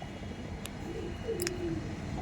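Andra pigeons kept in a rooftop loft in Kaikhali give soft, low, throaty coos at close range, with a few faint chirps and light background noise.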